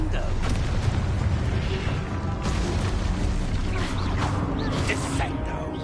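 The Confringo blasting spell in Hogwarts Legacy goes off as a booming explosion with short bursts and crackles under a continuous rumble, while a voice talks over it.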